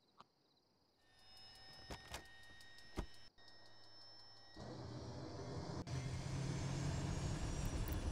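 Turbine-style aircraft engine in a flight combat game winding up, a low hum that grows louder and broadens partway through, with brief clicks and tones over it, ending in a steady loud roar.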